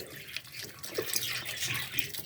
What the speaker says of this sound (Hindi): अब हम इसके अंदर 1 लीटर पानी डाल देंगे।